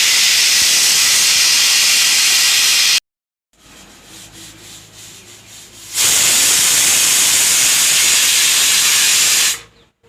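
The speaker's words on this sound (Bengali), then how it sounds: "প্রথম সিটি মারা হয়ে গেছে আমাদের।" A pressure cooker of vegetable khichuri whistles loudly, a sustained harsh hissing steam blast that cuts off, gives way to a quieter rumbling bubble for a few seconds, then blasts again at full strength.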